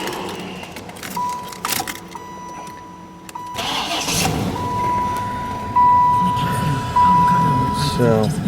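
A car engine cranking and catching during an AC recovery job between two vehicles, keys rattling first, then the starter whine and the engine firing into a steady idle that surges up in two louder steps.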